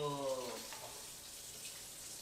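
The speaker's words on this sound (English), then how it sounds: "let me go ahead and wash my hands real quick" Tap water runs steadily from a faucet as hands are washed at a sink, a broad continuous hiss that holds at an even level from start to finish, with a brief tonal voice or sound fading out in the opening moments.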